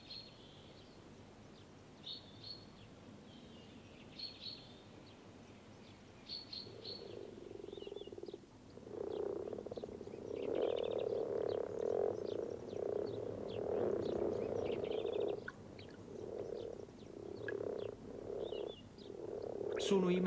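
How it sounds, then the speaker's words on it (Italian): Common frogs croaking in marsh pools in spring, a dense chorus of low gurgling calls swelling in from quiet and holding steady, with a few birds chirping faintly in the background. "nelle pozze d'acqua della palude le rane temporarie intonano un concerto"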